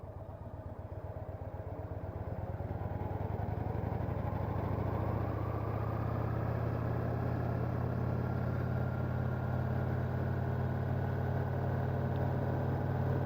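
Motorcycle ridden into the small town of Hayesville, Ohio, its engine a steady close mid-pitched drone that rises from a lower rumble to a constant loud pull, with wind and road noise throughout.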